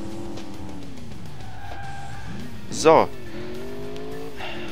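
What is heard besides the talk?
racing car drifting on asphalt in video game Alarm für Cobra 11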